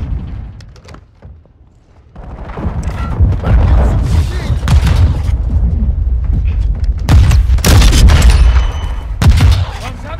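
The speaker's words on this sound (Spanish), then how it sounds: "Bombardeo estratégico hostil cerca de ti." Heavy strategic bombing explosions in the shooter game Call of Duty: Modern Warfare II: loud, booming blasts and rumbling impacts roll on continuously, with sharp crashes layered in, after a quieter opening.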